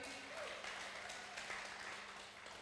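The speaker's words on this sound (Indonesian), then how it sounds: "tepuk tangan untuk Kak Sherly" Audience clapping welcoming a guest at a youth talk show on food culture and the environment, a brief, very quiet patter of hands heard faintly at a distance, with a low steady hum beneath.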